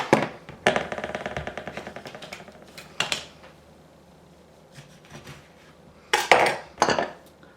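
Zest being scraped and tapped off a coarse microplane grater inside a bowl: a burst of close metallic scrapes and clatter at the start, a few sharp taps midway, then another brief cluster of knocks near the end.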